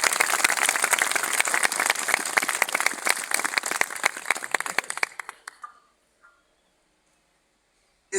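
An audience at a political gathering gives a welcoming round of applause, dense clapping that goes steadily for about five seconds, then thins out and fades to silence.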